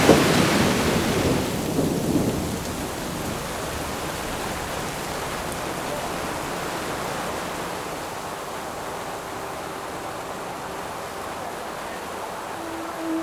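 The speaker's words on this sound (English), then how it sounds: "Little did we know there was this thunderstorm that came through" A loud rumble of thunder rolls at the start, then fades into steady, hissing rainfall that continues evenly for the rest of the time, during a tornado-weather day.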